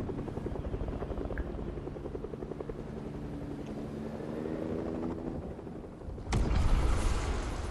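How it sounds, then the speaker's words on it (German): A helicopter in the video game Fortnite, its rotor chopping in a steady pulse that grows louder and closer toward the end. "Oder sie machen den Hubschrauber kaputt."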